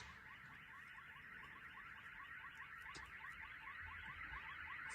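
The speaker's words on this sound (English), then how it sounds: "Why is the car alarms getting louder?" Car alarms wail after a missile strike, a faint, distant, continuous warbling siren pattern that repeats rapidly and steadily, with a few small knocks and no talk.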